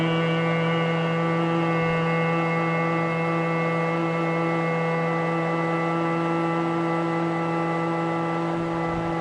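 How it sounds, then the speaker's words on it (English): A steady, sustained hum during breathing-out in a meditation session, with one continuous droning tone that holds evenly and moderately loud throughout, without speech. "while breathing out, make the humming sound"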